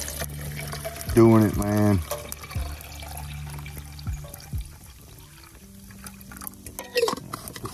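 Water is poured from a container for boiling on a flat pack backpacking stove, a brief splashing fill near the start, with someone talking casually and some outdoor background noise.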